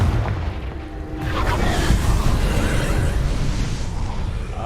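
A Confringo blasting spell blows apart rocks in the video game Hogwarts Legacy, a heavy, loud boom that swells into a sustained rumbling roar of crumbling debris.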